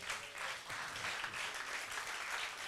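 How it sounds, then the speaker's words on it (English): An audience stands and applauds young volunteers, a sustained, even wash of many people clapping, fairly soft and distant, with no voices over it. "Let us stand and please give them a round of applause."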